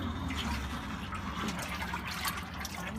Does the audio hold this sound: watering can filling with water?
yes